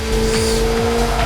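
A car drifting in the PS2 racing game C1 Grand Prix, its loud engine droning steadily with pitch sweeps and a faint tire squeal, alone without talk.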